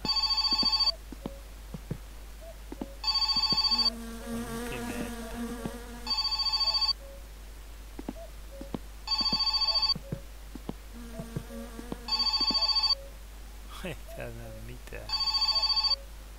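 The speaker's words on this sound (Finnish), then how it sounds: "Saa soida. Joku soittaa yöllä." A telephone in the Finnish rally-car game My Summer Car rings at night in evenly spaced, buzzing bursts, loud and close, with someone talking quietly between the rings.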